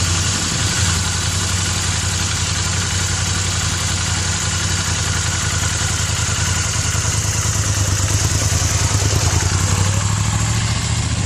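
A Ducati Scrambler motorcycle engine runs steadily at close range, a constant low throb with mechanical clatter that holds at an even level throughout, with no talk over it.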